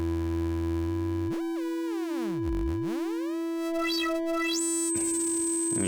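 A Schlappi Three Body synthesizer tone sweeps up and down with a harsh, buzzy oscillator-sync timbre, its harmonics bending and gliding continuously over a steady drone, loud and upfront.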